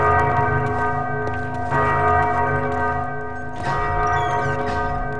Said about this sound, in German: Diese verdammte Glocke.